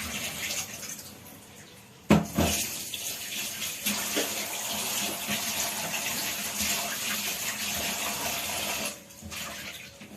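Kitchen tap running steadily while raw chicken is washed in a sink, a close continuous gush with a splashy jolt early on and a brief dip near the end.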